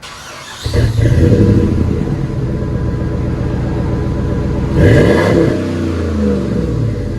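A loud, deep Ram 1500 5.7L Hemi V8 with its muffler removed roars to life and revs hard, with a raw, unmuffled rumble and a second sharp rev burst near the end.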